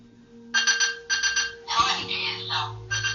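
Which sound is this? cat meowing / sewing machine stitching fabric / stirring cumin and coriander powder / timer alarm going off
timer alarm going off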